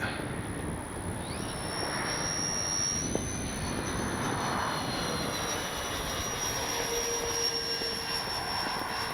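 FMS 70mm A-10 Thunderbolt II V2 RC jet on its maiden flight, a thin high ducted-fan whine rising and holding at a distance, faint over steady outdoor wind.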